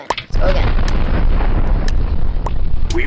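A booming, heavy bomb blast in the Minecraft mode Minestrike bursts in after a brief pop and rumbles on with scattered crackles and sharp pops, loud and close.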